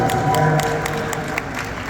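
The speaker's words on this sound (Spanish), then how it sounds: "un aplauso para Miss Nicaragua" A crowd at a Miss Universe Nicaragua pageant event claps and cheers for Miss Nicaragua, a dense, steady wash of applause with scattered sharper claps, fairly loud and continuous throughout.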